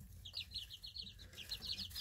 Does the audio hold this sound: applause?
no